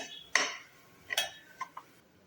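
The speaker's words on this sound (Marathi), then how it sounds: "सर्व एकत्र मिक्स करून घेऊया." A spoon stirring salt, asafoetida, cumin, chili powder and jaggery together in a metal pan, a few faint clinks and scrapes spaced over a quiet background.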